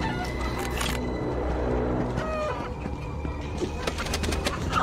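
A chicken clucks and crows in a scene from the 2011 film Priest, with the bird calls mixed over music and film sound effects at moderate loudness.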